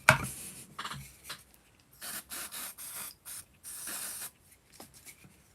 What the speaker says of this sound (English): Very little activator spray left. But at least it gets it stuck down.